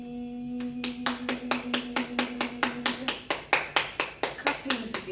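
Hands clap in a steady run of sharp, evenly spaced claps, about twenty over a few seconds, during a hands-on healing session, with a sustained tone humming faintly beneath them.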